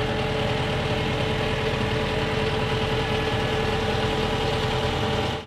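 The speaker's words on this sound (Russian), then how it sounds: "Нажимаем на газ и поднимаем ковш." A mini loader's engine runs hard as the throttle is pressed to raise its bucket, a loud, steady mid-pitched rumble with a rattling vibration, close and unbroken until it cuts off at the end, no talk.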